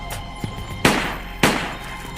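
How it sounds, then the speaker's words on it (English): Gunshots ring out in a parking lot outside an apartment: two sharp, loud cracks about half a second apart, each trailing a noisy decay, with a third starting at the very end. "The next thing Rodney heard was gunshots in the parking lot"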